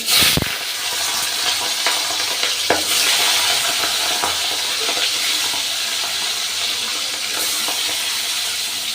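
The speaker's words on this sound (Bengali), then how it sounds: "এবার আমি মাছগুলো ভেজে নিচ্ছি।" Fish rubbed with salt and turmeric frying in hot oil in a home kitchen, a steady loud sizzle and hiss throughout with a few brief clinks and stirring sounds.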